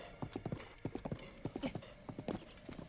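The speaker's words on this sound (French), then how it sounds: "On va capturer le cheval de Zelda." Horse hooves clip-clopping in an uneven galloping rhythm in Zelda: Breath of the Wild, a run of sharp close hoofbeats with short pauses and no talk over them.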